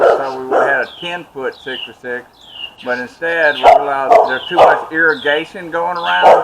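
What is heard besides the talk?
dogs barking in the background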